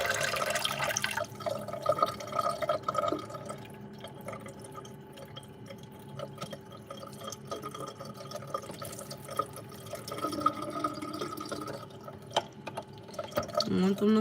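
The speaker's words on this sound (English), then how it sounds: "Let's pour all the water out." Water is poured out of a pot of black-eyed peas, trickling and dripping faintly in a home kitchen, with intermittent splashes and a person talking over it.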